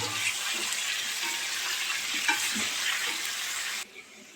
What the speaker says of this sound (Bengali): মাংসটা আরও কিছুক্ষণ আমরা ভেজে নেব।